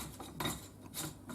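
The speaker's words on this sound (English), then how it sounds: "and then that just screws on" A threaded part is screwed by hand onto a Calibre Innovations Double R Practical shotgun, giving soft, close rasping scrapes in a few short bursts with no talking.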